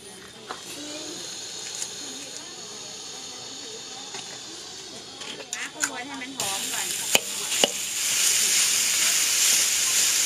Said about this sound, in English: he's just stir frying all of that